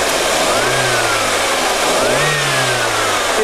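A car engine revs twice in quick succession while its RPM is measured with a tester on the COP ignition coils, rising and falling over a steady loud idle, no talking.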